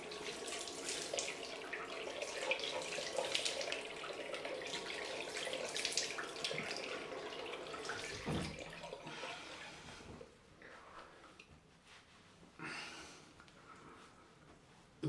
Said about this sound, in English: Right, let's wash this off.